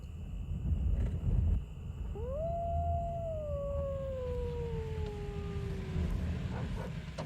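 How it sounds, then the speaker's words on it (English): A wolf howls in a long, rising then slowly falling wail over a steady low rumble of background noise, with a fainter second howl trailing alongside, heard without any talk. "The wolves."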